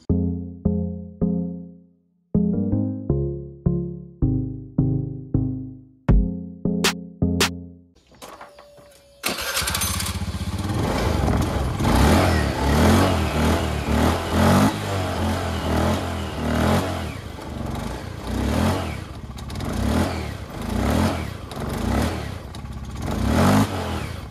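An automatic scooter engine with sluggish, weak acceleration cranks with sputtering starts, catches, then runs loudly with repeated revving surges, close to the listener.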